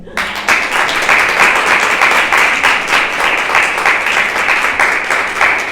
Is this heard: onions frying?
no